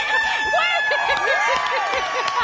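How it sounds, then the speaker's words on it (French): Poultry calls ring out amid a flock, with a drawn-out crowing note rising and falling over repeated clucking, fairly close. "c'est le coq qui chante"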